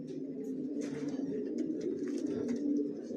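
Racing pigeons in a loft coo in a dense, continuous low murmur, several birds overlapping close by with faint flutters and scuffs above the steady drone.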